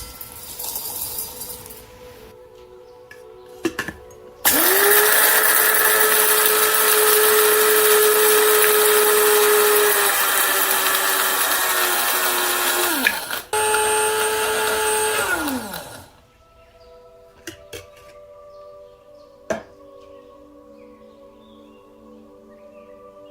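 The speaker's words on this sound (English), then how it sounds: "Use a spice grinder to grind our dry aromatics to a fine powder." An electric spice grinder whirs loudly and steadily for about ten seconds, grinding dry aromatics to a fine powder, then pauses briefly and runs again before stopping, followed by quiet kitchen sounds.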